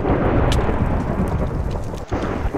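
Lightning bolts strike in the Dissent video game, a loud rumbling crash of thunder over a rain-like hiss with a sharp crackle near the middle, and no voices.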